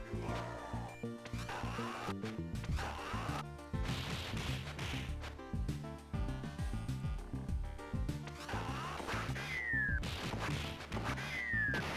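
A dense, busy Game Boy game mix, Fortified Zone, with repeated crashing hits and two descending German hand grenade whistles near the end, loud and continuous throughout.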